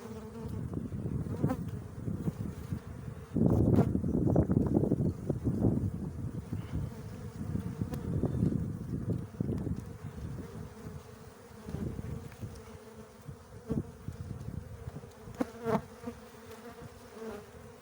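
Honeybees buzz steadily at an open hive frame while honey is being carried from the outermost frame, a close, dense insect drone that swells louder around the middle and stays continuous throughout with no talking.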